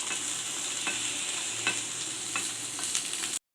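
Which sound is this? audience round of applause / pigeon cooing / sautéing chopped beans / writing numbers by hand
sautéing chopped beans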